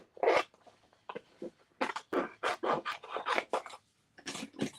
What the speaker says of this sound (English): Let's just rough cut out the shape of the tag.